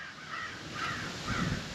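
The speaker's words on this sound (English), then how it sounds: "Shut up, crows!" Crows cawing outdoors, several hoarse caws repeating at a moderate distance over steady background hiss.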